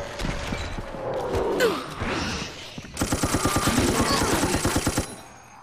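Rapid automatic gunfire in Resident Evil: Operation Raccoon City, a fast rhythmic string of shots after a stretch of scuffling and mechanical noise, close and fairly loud.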